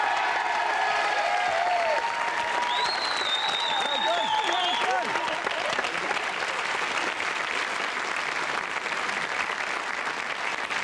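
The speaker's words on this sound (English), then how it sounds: "Give them a round of applause" A television game-show studio audience claps loudly and steadily throughout, with a few whistles and cheers near the start and no voices over it.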